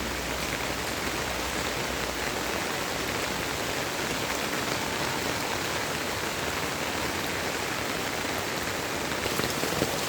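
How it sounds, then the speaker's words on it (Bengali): Heavy rain pours down steadily behind a house beside a jungle, drumming on water and surfaces as a dense, continuous close hiss that stays loud and unbroken throughout. "প্রচুর বৃষ্টি হচ্ছে।"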